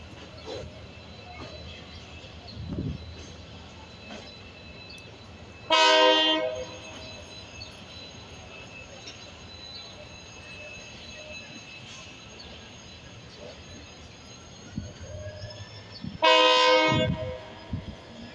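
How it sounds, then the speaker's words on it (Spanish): A locomotive departs Moreno station on the Sarmiento railway, sounding two loud horn blasts about ten seconds apart over a low rumble of engine and rolling stock, with faint platform noise between the blasts. "está saliendo la locomotora."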